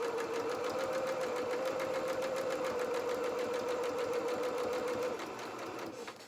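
A sewing machine runs steadily as it stitches the leg seam of a cloth doll, a continuous whirring hum that carries for about five seconds before slowing and easing off near the end.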